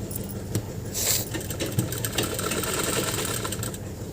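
A sewing machine runs a straight seam along a salwar waistband, a steady mechanical whir with faint rapid ticking throughout, fairly close and unbroken, with a few small clicks and no voices.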